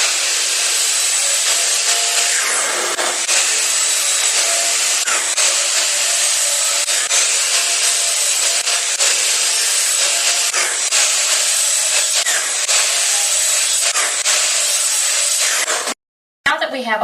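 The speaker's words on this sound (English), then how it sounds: "now it's time to make 45-degree miters on each end of each piece" A saw cuts 45-degree miters through reclaimed fence picket wood, a steady, loud, continuous rasping that runs nearly unbroken for about sixteen seconds before stopping abruptly.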